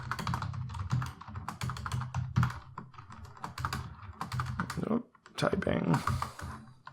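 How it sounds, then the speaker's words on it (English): Rapid keystrokes clatter on a computer keyboard close by, in uneven bursts, while someone talks over the typing during live coding of a quiz game. "Typing."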